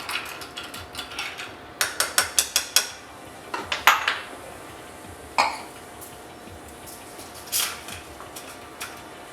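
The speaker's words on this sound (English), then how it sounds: "don't be afraid to stir it until the glass feels practically like ice" A spoon stirs an elderflower liqueur cocktail over ice in a glass. A quick run of bright, rhythmic clinks is followed by a few scattered knocks and taps.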